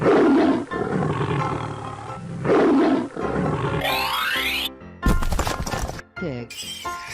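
A tiger roars in a 3D animal slide video game, a loud rough growl over game music and jingles, followed by bright sound effects and a crashing burst.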